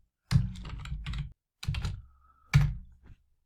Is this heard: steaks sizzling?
no